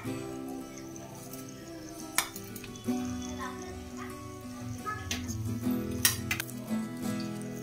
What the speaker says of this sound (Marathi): आता उरलेल्या तेलात आपण लसूण, अद्रक,